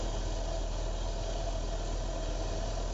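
A waste oil shop furnace burner fires with air injected around the nozzle, giving a steady, loud, low roar and rumble with no break and no talk.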